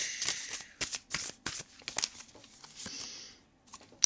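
A deck of oracle cards being shuffled by hand up close, a series of quick riffling bursts and soft slaps in an uneven rhythm with short pauses between, no talking.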